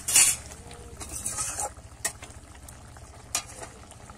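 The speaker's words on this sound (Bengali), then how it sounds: "এবারে কিন্তু ভালো করে ফুটিয়ে নেব" Prawn and potato curry simmering in a pot, soft bubbling and stirring scrapes with a few sharp clinks, close and fairly quiet with no voices.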